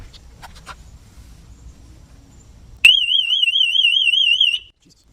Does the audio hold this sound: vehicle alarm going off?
yes